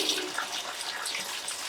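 Cold tap water running steadily over boiled taro root in a kitchen, a continuous close splashing hiss with no talk.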